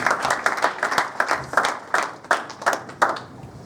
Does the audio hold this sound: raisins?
no